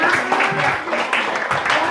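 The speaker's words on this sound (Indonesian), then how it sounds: "Tepuk tangan, Raisa." Students in a classroom clapping for a classmate, brief uneven applause from a small group, loud and close, with voices talking over it.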